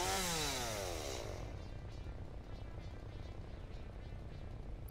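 A chainsaw in the video game Satisfactory revs up with a rising whine, then settles into a loud, steady buzzing drone that runs on without pause.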